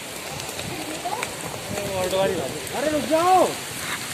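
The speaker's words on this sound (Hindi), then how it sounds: "बहुत तेज बारिश हो रही है आज" Heavy rain pours down outdoors, a steady hiss throughout, with a voice calling out over it and other voices nearby.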